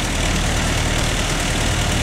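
A 1999 ODB SCL800TM leaf vacuum trailer engine runs at a steady, loud idle, a continuous low rumble with broadband roar and no pauses.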